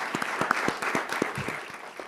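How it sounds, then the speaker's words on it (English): Modest audience at a district mayoral and delegate candidates forum gives a round of applause, sparse, distinct claps from a fairly small crowd with a loose, uneven rhythm. "Give our candidates a round of applause."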